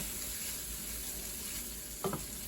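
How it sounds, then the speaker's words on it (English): Chili being stirred into an enchilada filling on the stove, heard as a steady close sizzle and frying hiss with a brief scrape of the spoon near the end. "So let's stir this in really good, give it a good chili flavor."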